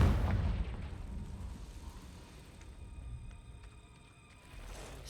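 A Confringo fire spell explosion in Hogwarts Legacy bursts loudly at the start, then rumbles and fades into a lingering low roar with faint ringing tones.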